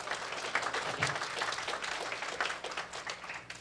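An audience at a comedy show breaks into a fairly quiet round of applause, with dense clapping spread evenly through the room.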